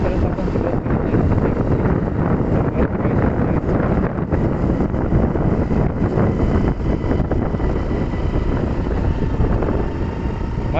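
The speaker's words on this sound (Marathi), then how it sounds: "माझा आवाज तुम्हाला या वाऱ्यापुढे जरा व्यवस्थित येणार नाही कारण की वाऱ्याचा एवढा वेग सुरू आहे" Strong wind buffets the microphone outdoors, a loud continuous rumbling roar with gusty fluctuations throughout.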